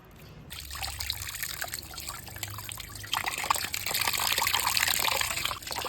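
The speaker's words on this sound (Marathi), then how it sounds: "अशा पद्धतीने आपले पापलेट सगळे स्वच्छ करून घ्यायचे बघा स्वच्छ पाण्यात धुवून" Fresh pomfret fish being rinsed in clean water, with a steady trickle and splash of running water that grows louder and busier in the second half.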